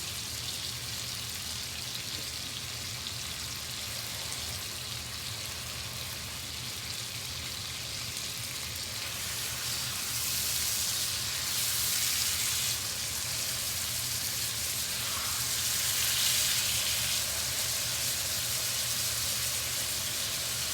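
Bubba burgers fry in a pan on a camping cook setup, making a steady, close, hissing sizzle that runs throughout and swells a little louder partway through, with no talking.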